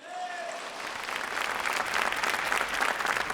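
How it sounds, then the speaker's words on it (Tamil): A seated audience at a Tamil comedy debate stage show in Coimbatore breaks into applause that starts thin and builds into a thick, sustained clatter of clapping. "உற்சாகமான கரகோஷம் கொடுத்து அவங்கள வரவேற்கணும்"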